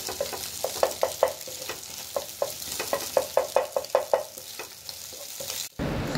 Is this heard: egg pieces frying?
yes